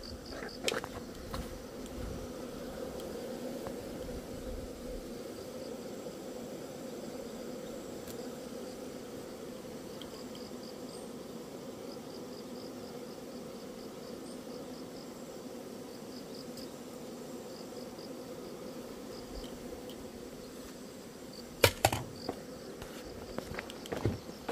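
Bees and hornets hum steadily at the entrance of an apiary, a dense continuous insect drone with a few soft thuds and taps, and no voices.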